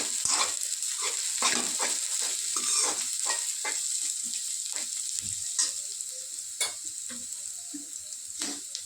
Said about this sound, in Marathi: आता मिरच्या आपल्या तळून झाल्यात, त्यामुळे सगळं मिक्स करून घेऊ